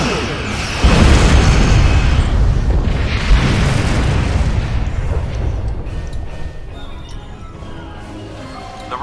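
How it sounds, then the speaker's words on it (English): Starship torpedoes fire and explode in a space battle in the game Star Trek Online: a loud, sustained rumbling boom that swells and slowly decays, with a second burst layered in and a dense roar throughout. "Fire torpedoes!"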